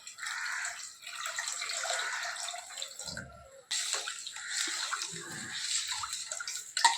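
Water poured steadily into a vessel in a kitchen, a continuous near splashing gush with a short break midway, no talking.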